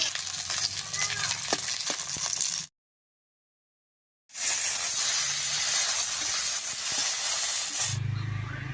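Shol fish frying in oil in a pan, a steady close hiss and crackle that cuts out briefly to silence, then resumes just as strongly before ending with a low rumble.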